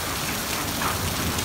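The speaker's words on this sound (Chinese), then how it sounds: "冰雹了，" Hail comes down in a dense, steady patter on the ground and surfaces outdoors, a loud continuous hiss with scattered sharper hits and no voices.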